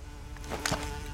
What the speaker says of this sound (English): I shot the hornet's nest